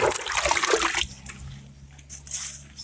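Water splashing and trickling from watering many plants growing in tubs, a loud gushing burst for about a second, then quieter intermittent splashes and dribbles.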